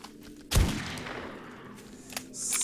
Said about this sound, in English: I really like the sound of this gun.